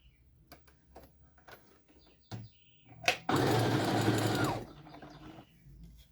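A sewing machine runs in one dense, steady burst of about a second and a half while stitching a Christmas doll, preceded by scattered small clicks and handling taps.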